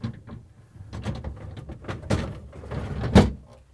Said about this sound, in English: I'm going to put it on the rails and slide it in.